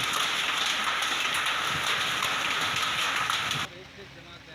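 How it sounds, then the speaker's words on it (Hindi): Steady rain pours down during stormy weather with hail, making a dense, loud wash of drops that runs continuously before cutting off sharply near the end. "रुक रुक कर हो रही बरसात, ओलावृष्टि लोगों के लिए मुश्किलों का सबब बन रही है।"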